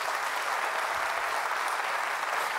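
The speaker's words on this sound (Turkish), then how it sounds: "yanılmıyorsam güçlü bir alkış bekliyorum" A studio audience on a television quiz show breaks into strong, sustained applause, a thick, continuous clatter of many hands with little variation in loudness.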